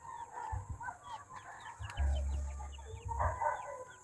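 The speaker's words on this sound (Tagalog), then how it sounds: "nag-alaga na siya ng manok" Chickens kept on a hilltop farm in the provinces, with a rooster crowing and hens clucking at moderate distance over outdoor background noise, several calls overlapping through the stretch.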